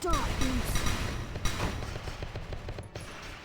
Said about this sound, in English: Let me shoot back first.